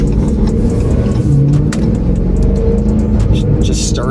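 Freshly started 2022 Honda Grom motorcycle engine idling with a steady, close low rumble, without revving, as a voice speaks over it.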